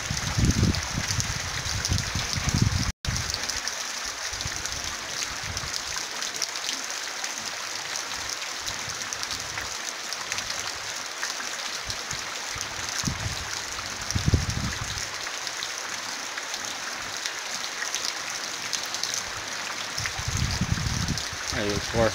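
Floodwater about half a metre deep, left by a sudden heavy downpour, flows through a town street with a continuous rushing, hissing wash and occasional louder surges, heard close and steady.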